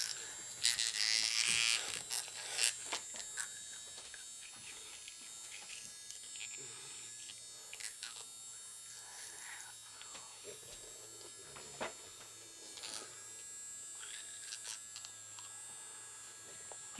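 A child's electric toothbrush buzzes faintly with irregular scraping clicks against teeth, while a child's and an adult's voices speak softly over it.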